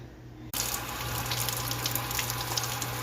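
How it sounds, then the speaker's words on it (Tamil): Water is poured into a leaking container, starting abruptly as a steady, hissing splash that runs on without a break. "பாருங்கள் தண்ணி ஊற்றுனதுக்கப்புறம் எப்படி இருக்குன்ட்டு"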